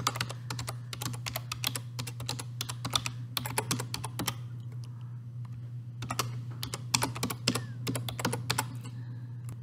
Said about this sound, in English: And tap in the password.